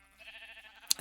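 A single short sheep bleat from a video game, faint and wavering, closing with a sharp click.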